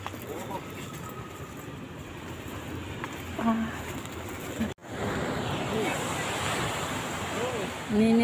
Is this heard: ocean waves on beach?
yes